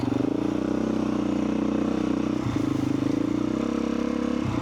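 A motorcycle engine runs loud and steady right up close, a continuous rumbling drone with a brief dip partway through and no voices over it.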